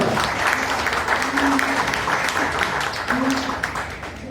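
Audience applause at a poetry reading during a book fair in Guarulhos, a dense steady patter of many hands clapping for the full stretch, moderately loud, with a faint voice briefly under it.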